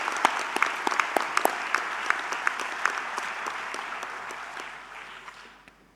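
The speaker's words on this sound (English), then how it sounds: "can we give another warm round of applause to Karen?" Warm applause from the audience at a university graduation ceremony in Auckland, a dense crowd of clapping with crisp individual claps popping out in an irregular rhythm, slowly fading over six seconds.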